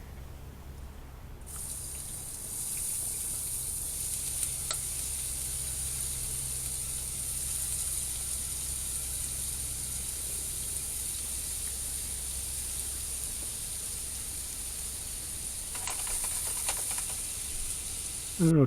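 Oil hisses in a hot pan as food browns, a steady broadband sizzle running almost unbroken from start to finish, fairly close and with no talking.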